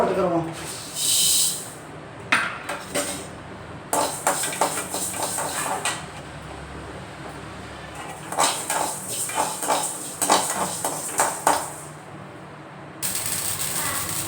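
Mustard seeds spluttering and popping in hot oil in a home kitchen, heard as bursts of sharp crackles and sizzling between quieter gaps, close and moderately loud.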